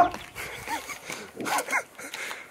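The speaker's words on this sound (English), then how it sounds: "You see this dog tornadoing?" On a crowded single-track hiking trail in France, a dog gives short whimpering yips and vocal whines in several brief bursts, close by and moderately loud, amid faint background noise.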